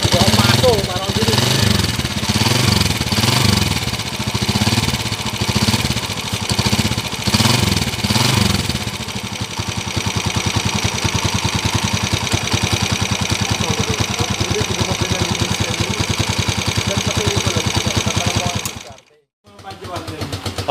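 A Raider 150 motorcycle engine running steadily, loud and close, with a rapid mechanical chatter and some knocking, ending in a short cutout near the end; no talk.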